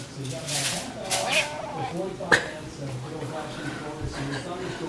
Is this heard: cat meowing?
yes